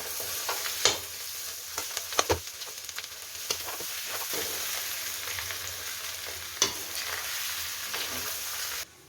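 Vegetables fry on a high flame in a home kitchen, a loud steady sizzle with occasional sharp clacks and scrapes of stirring, and no talking.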